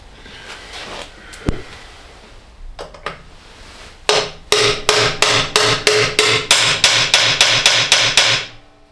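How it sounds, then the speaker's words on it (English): A couple of scattered knocks, then a steady run of about fifteen sharp metallic hammer blows driving a bearing in with a pusher on a 1981 Honda CB750 fork conversion, loud and evenly spaced, ending abruptly. "I'm just going to knock the bearing in with one of these pushers."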